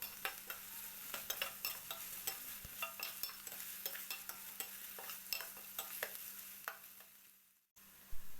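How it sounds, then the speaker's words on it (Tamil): Onions and potato frying in a pan for a Tamil potato dish, a steady close sizzle broken by repeated scraping stir strokes, fading out near the end. "இது எல்லாத்தையும் கொஞ்சம் நேரம் நல்லா வதங்க விடணும்."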